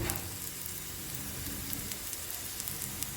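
Cucumber thalipeeth frying in a pan, a dense continuous sizzle and crackle holding steady and fairly loud throughout, with light spits on top and no voices.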